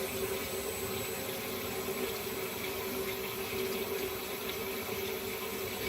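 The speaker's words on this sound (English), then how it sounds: "We're going to get the water going." Hot water runs from a sink tap in a steady, unbroken rush with a faint hum under it, moderately quiet and with no talking.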